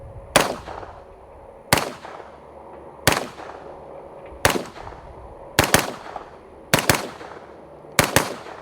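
Suppressed rifle shots from an 11.5-inch Daniel Defense fitted with a Sandman X 7.62 suppressor, seven sharp reports at a slow, even pace, each with a short fading tail outdoors and no talk.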